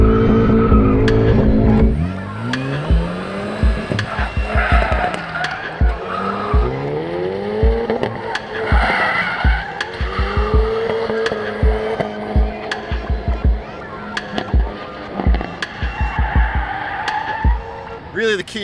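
A front-wheel-drive car spinning through J-turns at roughly 20 to 25 mph, tires squealing in long swooping skids as the engine revs rise and fall, loud and close over several minutes of repeated spins.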